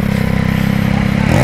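Yamaha XSR900 motorcycle engine with an aftermarket exhaust, a steady loud idle-like drone that swells into a rising rev near the end, close to the muffler tip.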